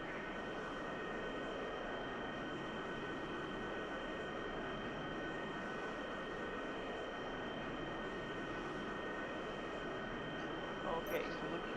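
A steady broadband roar of airplane engines as planes come in to land in a flight simulator game, constant and moderately loud, with a faint brief click near the end.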